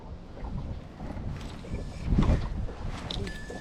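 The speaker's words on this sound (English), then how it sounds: "This wind is making it really awkward today" Steady wind gusts over open water on Rutland Water while fly fishing from a boat, a continuous rushing buffet on the microphone that swells and eases, with faint creaks and knocks from the boat.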